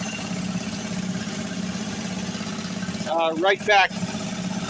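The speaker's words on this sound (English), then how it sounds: "right now it's idling on bypass" A gas-engine air compressor idles on bypass in a shop, venting its air to the atmosphere instead of the tank, giving a steady low mechanical drone throughout. Near the end a person speaks briefly over it.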